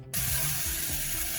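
Chopped vegetables hit a hot skillet already holding Italian sausages, bursting into a loud, steady hiss of sizzling that holds for a second or so, close and unbroken.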